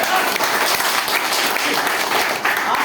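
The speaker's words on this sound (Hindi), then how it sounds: "जोरदार ताली" Loud, dense applause from a crowd at a marketing presentation, continuous clapping throughout with no pauses.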